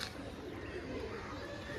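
A male pigeon coos faintly and softly in a low, rolling tone, with voices and some background noise around it.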